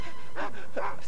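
A cartoon dog in a 1998 Nickelodeon haunted-house episode gives two short whimpering barks about half a second apart, close and clear over a soft background.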